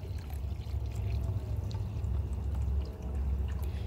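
Rainwater pours steadily into a container for compost tea, a continuous low rushing splash that stays close and fairly loud throughout, with no voices over it.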